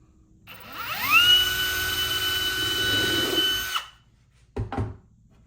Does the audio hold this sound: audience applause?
no